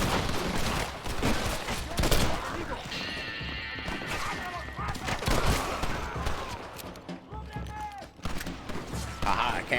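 Gunfire from a Red Dead Redemption shootout: repeated loud shots and bursts crackle throughout, mixed with horse hoofbeats and game noise, while people talk over the action.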